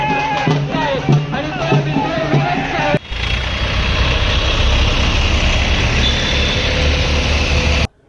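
After a few seconds of voices, heavy tractor engines rumble loudly and continuously at a tractor protest march, a low chugging drone like tractors idling close by.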